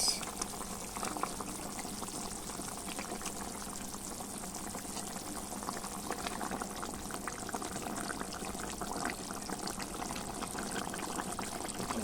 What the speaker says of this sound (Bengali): তার জন্য তরকারি ফুটছে দেখতে পেয়েছো তো ফুটছে তরকারি